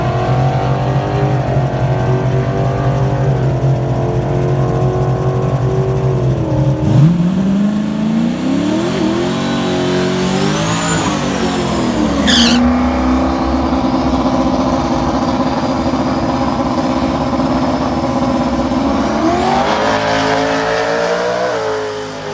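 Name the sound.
Saleen car making a drag strip pass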